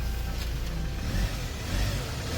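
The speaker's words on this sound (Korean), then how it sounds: "엔진 소리 조용하고요" A 2015 Hyundai Porter II one-ton truck with a Euro 5 diesel engine idles quietly with a low, even rumble, no revving or other sounds standing out.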